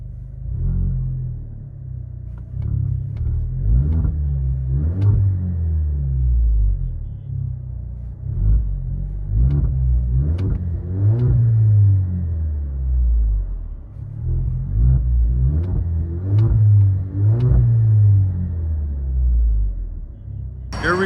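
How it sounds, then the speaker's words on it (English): Deep, rumbling exhaust from a straight-piped 2020 Alfa Romeo Stelvio SUV revving repeatedly, surging up and dropping back several times, loud and close with a raw, unmuffled growl. "we just fully straight piped it the exhaust"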